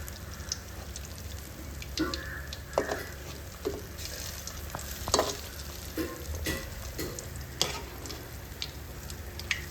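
An egg cutlet is turned over and fries in a pan, giving a dense, steady sizzle broken by scraping and stirring clatter as it is flipped.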